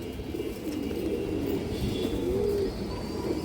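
Pigeons coo softly in the background, a faint, continuous low murmur with a couple of clearer nearby coos, no voices.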